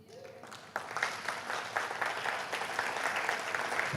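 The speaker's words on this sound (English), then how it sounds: "I see some of the students clapping" Graduating students clapping at a RICA graduation ceremony, starting thin and scattered, then swelling into a fuller, steady patter of applause from a moderately distant crowd.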